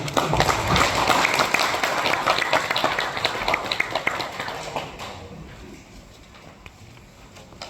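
An audience in a meeting room at a National Assembly academic presentation claps in welcome. The clatter is fairly close at first, then fades and thins out over the final few seconds.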